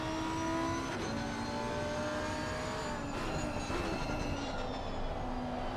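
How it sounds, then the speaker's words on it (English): Onboard a Lamborghini race car in Assetto Corsa Competizione at Brands Hatch, the engine howls steadily through rising and falling gear changes, close and loud, with other cars faintly around it. "Let's go on board now with the Lamborghini driver"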